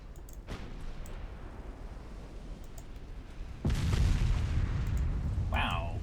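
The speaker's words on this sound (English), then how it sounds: "Torpedo detonation on the enemy heavy." A torpedo detonates against an enemy heavy ship in the naval strategy game Ultimate Admiral Dreadnoughts: after a few seconds of quiet ambience, one sudden deep boom hits and rumbles on, followed by a brief higher tone near the end.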